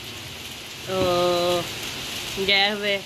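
Heavy stormy rain falls steadily outside, a constant broadband hiss running through the whole clip while someone speaks briefly over it.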